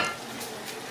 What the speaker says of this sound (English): So we've got the water boiling and the burger frying